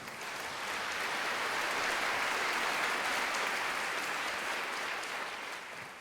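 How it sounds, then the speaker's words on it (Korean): Sustained audience applause welcoming a speaker at a Korean cultural festival, an even wash of clapping heard from a distance, swelling and then tapering off slightly. "자리로 큰 박수로 모시겠습니다"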